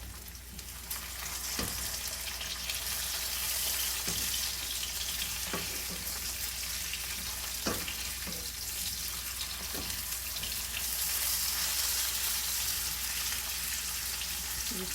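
Food fries in a skillet with a steady, bright sizzle throughout, punctuated by occasional scraping taps from stirring.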